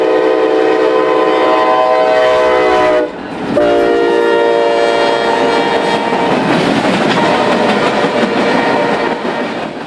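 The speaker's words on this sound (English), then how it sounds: "The sound of a beyond-deafening K5LA leads no question as to the leader on the southbound about to meet the local." Union Pacific freight train with a Tier 4 SD70ACE leading blasts a very loud K5LA horn in long sustained chords with a brief break, then rumbling cars and wheel clatter roll past close by.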